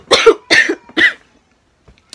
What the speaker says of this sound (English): Sorry about my coughing session.